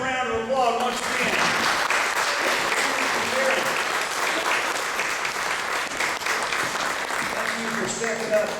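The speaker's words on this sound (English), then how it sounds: "let's give them a round of applause once again" Sustained audience applause at a county meeting, loud and even throughout, with voices speaking faintly beneath the clapping at the start and end.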